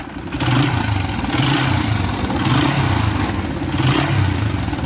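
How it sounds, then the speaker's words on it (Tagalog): A motorcycle engine runs loudly close by, its throttle blipped in regular surges about once a second, rising and falling without any talking. "Ito yung tunog ng makina niya."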